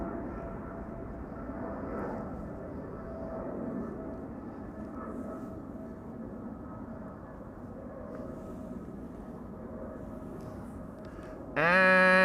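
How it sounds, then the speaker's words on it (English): A KLM Boeing 777-300 jet departing Amsterdam Schiphol, a steady broad engine roar that swells and eases slightly throughout, heard from a distance with no talking. "And a 777 taking off from center."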